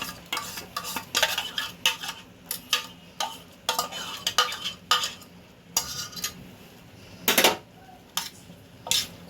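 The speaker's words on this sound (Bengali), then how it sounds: "এবার এইটা আমি এর সাথে মিশিয়ে দেব, আমের পাল্পটা" Mango pulp is worked into a sandesh mixture with a utensil, producing a series of close, irregular scraping and tapping strokes against the bowl, separated by short pauses.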